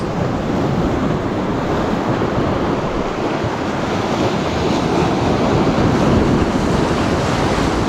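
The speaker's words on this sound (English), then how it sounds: "That is a big wave." Big ocean surf breaking on a windy, rainy shore where bass are being lure-fished, a loud, steady roar of crashing water with wind buffeting the microphone throughout and no talk.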